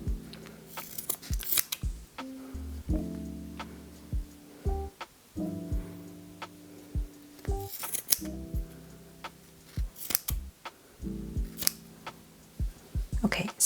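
Scissors cut through yarn loops for pompoms, giving repeated sharp close snips in irregular clusters with soft rustling between them.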